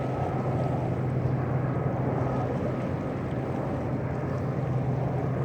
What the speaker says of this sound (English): All day long, helicopters are flying back and forth.